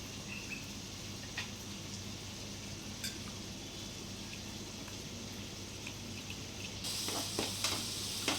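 Onion and tomato sautéing in hot oil, a soft steady sizzle with occasional light stirring clicks that grows a little louder near the end.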